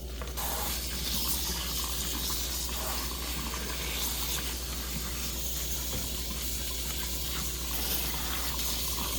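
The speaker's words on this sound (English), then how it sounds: "rinse and drain the egg noodles" Egg noodles are rinsed and drained for a vegetarian chow mein under running water, which makes a steady, loud, continuous splashing rush with no pauses.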